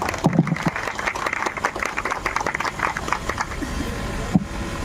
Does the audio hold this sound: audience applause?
yes